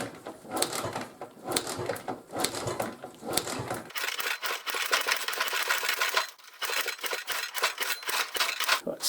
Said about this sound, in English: I'll just kick it over by hand